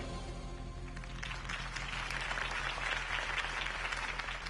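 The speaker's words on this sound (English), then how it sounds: "If only Mr. Wayne, my campaign's largest backer, could have heard that applause" A crowd in the Batman Telltale video game applauds after a campaign speech, steady massed clapping that swells after the first second over a low hum, moderately quiet.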